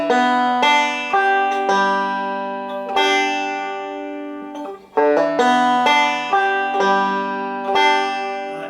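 Close, solo banjo picking from a Scruggs-style "Cumberland Gap" break, with ringing plucked notes, including a quick slurred hammer-on note just before the second string sounds, repeating in a short phrase.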